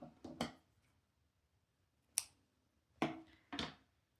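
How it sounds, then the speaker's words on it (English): Sharp scissors snipping through crochet yarn, a few crisp cuts in quick succession followed by several more separated snips, close and clear with no talking. "chain one and cut the yarn"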